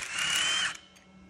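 Power tool loosening a bolt on a rotor during dynamic balancing, a single short whirring burst of under a second that then cuts off and trails into quiet.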